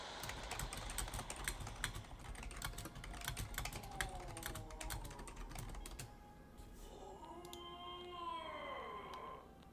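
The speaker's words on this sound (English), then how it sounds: "I was typing for 1 second." Rapid, irregular clicking of computer keyboard typing fills the first six seconds at moderate volume, then gives way to a quieter stretch with a faint tonal background.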